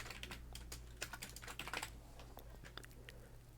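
A computer keyboard tapped in quick, light keystrokes as a plan name is entered in point-of-sale software, faint and close, with a low steady hum underneath.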